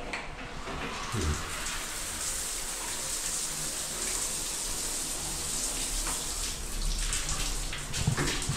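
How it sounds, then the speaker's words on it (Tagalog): A newly installed shower in a farmhouse bathroom runs with a steady, hissing spray of water, continuous and fairly faint, with a few small knocks and splashes and no talking. "Shower na. Functional na yan."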